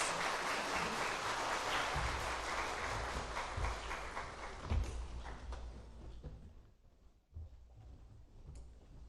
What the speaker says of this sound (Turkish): Etimeskut Müftülüğü Çocuk Koromuzu o güçlü alkışlarınızla sahneye davet